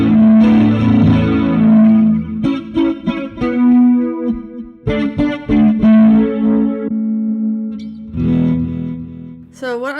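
Donner HUSH-I PRO travel guitar played through its built-in effects, distorted and chorus-tinged chords and strums ringing out in bursts with pauses between, loud and up close without talking.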